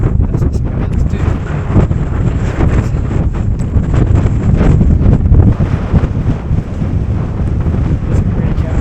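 Strong wind buffeting a microphone at a wild camp on the summit of Cadair Berwyn in Wales, a loud continuous rumbling roar with gusty surges throughout and no clear speech.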